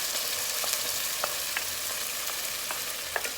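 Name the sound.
ginger, garlic, green chilli and plum tomato frying in pan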